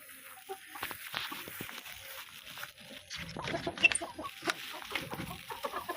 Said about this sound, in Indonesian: Nah, ini dia ayam kita